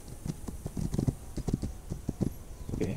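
Horse hooves clip-clopping in the frontier video game This Land is My Land, a brisk rhythmic trot of close, distinct hoof strikes continuing steadily throughout.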